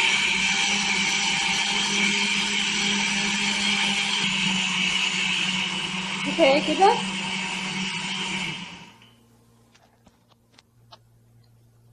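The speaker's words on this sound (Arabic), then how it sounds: "ونقفل الخلاط وهنشغل" A kitchen blender mixing flour, milk and salt into a batter whirs loudly and steadily for about eight seconds while a voice speaks briefly, then it shuts off, leaving near silence.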